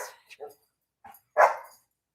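Dogs barking indoors at a desk workspace: a few short yips and whimpers, then one louder bark, close and brief with silence between.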